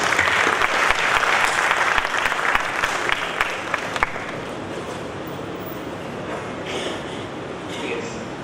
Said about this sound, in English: So we clap and invite him once again.